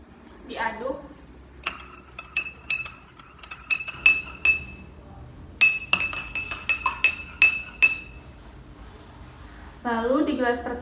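A metal spoon stirs water dosed with iodine (betadine) drops in a clear drinking glass, clinking sharply against the sides in two bursts of quick, irregular taps, close and bright, with brief voices at the start and end.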